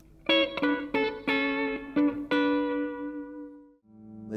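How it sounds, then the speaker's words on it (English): A clean electric guitar through a Blackstar ID series amplifier with reverb picks a few separate notes, then a final chord rings out long and washy, lingering with a spacious reverb tail. "Maybe you'd like a bit of a reverb."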